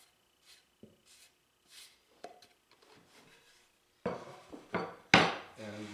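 Roughly diced hothouse cucumber tipped into a salad bowl of Mexican cabbage salad, heard as several light taps and scrapes followed by a louder series of clattering knocks as the pieces tumble against the bowl.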